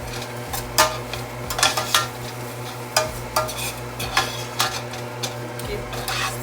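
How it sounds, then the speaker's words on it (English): Stirring a habanero pepper mixture in a cooking pot while making abacha, with repeated scraping and stirring strokes over a steady low background hum, fairly close. "Keep stirring it."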